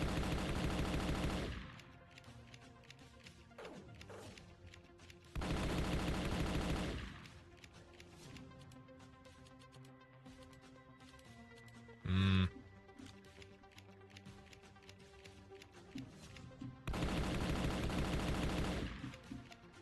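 Gunfire in the video game Final Stand 2 comes in several loud bursts of rapid automatic shots, separated by quieter stretches of clicks and faint game noise, with one short sharp blast in the middle.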